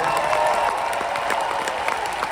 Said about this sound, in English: Clap your hands if you believe.